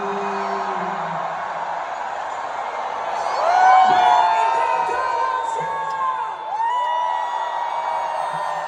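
Concert crowd at a world tour show in Singapore shouting together on cue, a loud swelling roar of cheers and whoops that peaks then settles into continued shouting.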